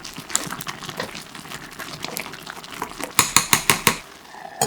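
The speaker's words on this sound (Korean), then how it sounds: "화물이 보글보글 끓어오르며 위아래로 한번 쌀을 뒤집어주고" Rice cooking with sweet potato in a bubbling pot, soft simmering and scraping under a run of sharp metallic clinks and knocks, louder and more rhythmic toward the end.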